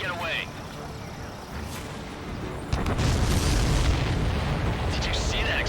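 A deep, rumbling explosion in Ace Combat 7: Skies Unknown, an aircraft being shot down, bursts out midway and sustains into a loud, noisy roar, with a quieter synthetic hum before it.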